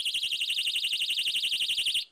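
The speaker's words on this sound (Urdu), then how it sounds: "یہ الارمز سیفٹی پن نکالنے پر اپنا کام شروع کر دیتے ہیں" A personal safety alarm set off by pulling its pin gives a rapid pulsing electronic shriek, about ten beats per second, loud and unbroken for two seconds before cutting off abruptly.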